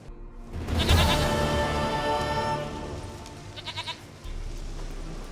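A goat in The Witcher 3: Wild Hunt bleats in a couple of wavering calls over a continuous ambient game soundscape.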